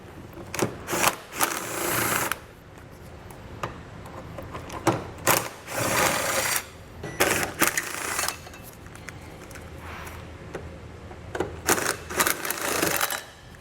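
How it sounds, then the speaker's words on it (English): A socket wrench works the tow hook bolts out of a 2010 Toyota Highlander frame with a 14mm socket, making bursts of rapid ratcheting clicks separated by short pauses. "We'll use a 14mm socket to get those out."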